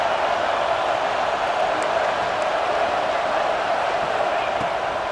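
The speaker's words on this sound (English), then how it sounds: "Decibels rising as the crowd gets behind this defense on third down." Video game stadium crowd in EA Sports College Football 26 on a third-down defensive play: a steady, dense roar of fans, loud and even with no clear peaks, while commentary runs over it.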